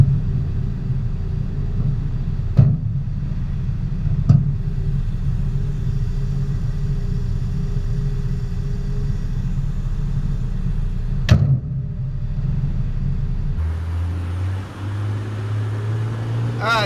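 A 1967 Chevy Camaro with a 2-speed transmission rumbles along from inside the cabin, its steady low engine drone broken by a few sharp knocks and a shift in tone near the end.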